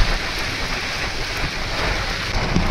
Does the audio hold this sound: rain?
yes